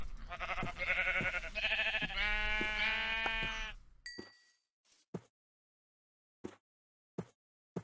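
Bleating from sheep in the Minecraft video game, a loud wavering cry close by, followed by a few short sharp clicks and taps with silence between them.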